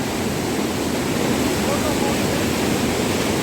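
River water rushing beside a mountain trail in the Parvati Valley near Kasol on the way to Kheerganga, a dense, steady broadband roar, loud and close, with no break.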